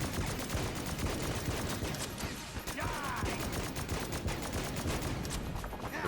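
Shotgun fire and reloading in the Enter the Gungeon video game: a dense, rapid run of overlapping blasts and mechanical clicks, loud and continuous throughout with game effects layered in.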